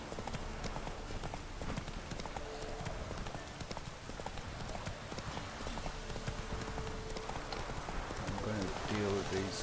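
Roach the horse galloping in The Witcher 3, a continuous rapid drumming of hooves carrying on at full pace, close and steady, with some game sounds mixed in.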